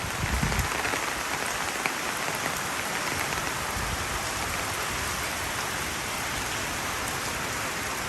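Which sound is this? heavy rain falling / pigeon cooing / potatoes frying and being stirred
heavy rain falling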